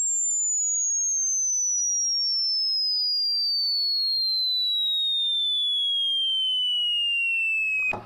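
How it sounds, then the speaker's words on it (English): Prophet 600 analog synthesizer holding one sustained tone that glides steadily downward over about eight seconds on a very slow linear envelope, loud and alone, cut off abruptly at the end. "you can hear, you can get really slow envelopes as well"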